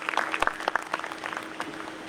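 A live audience claps for a couple of seconds, with quick scattered hand claps that are fairly faint and thin out toward the end.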